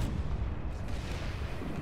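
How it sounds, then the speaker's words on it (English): Artillery barrage in Planetside 2, a dense, continuous rumble of heavy booms and blasts striking around a group of TR soldiers huddled in a corner, loud and sustained with no voices over it. "Four TR huddled up in a corner about to eat all the artillery in the world."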